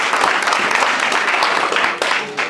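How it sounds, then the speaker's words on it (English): Audience applause at a startup pitch event, a lively burst of clapping with scattered sharp hand claps, fairly loud and close. "A round of applause."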